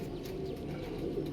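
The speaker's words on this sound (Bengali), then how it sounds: "এটা মাদি পায়রা আছে, বুঝতেই পারছেন, টিপলার পায়রা আছে এটা।" Tippler pigeons, including a female, coo softly and steadily at close range, a low rolling murmur with no talk over it.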